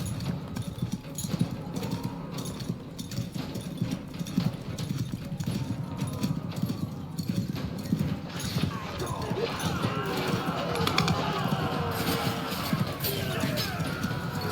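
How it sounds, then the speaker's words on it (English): Horse hooves clip-clop steadily at a slow pace in the fantasy game Realms Forgotten, running continuously under a dense layer of game noise and background activity. "My horse is very, very slow."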